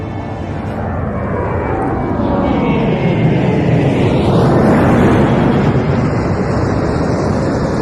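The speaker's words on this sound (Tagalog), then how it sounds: "Ang aeroplano ko!" An airplane roars past, loud and continuous, the engine pitch sweeping downward as it passes close, with a steady whine emerging near the end and no talk.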